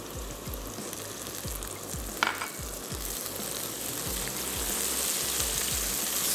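Garlic and ginger paste frying in a pan of hot oil for chicken pasta, a steady crackling sizzle with low periodic thumps, one sharp clink partway through, growing slightly louder toward the end.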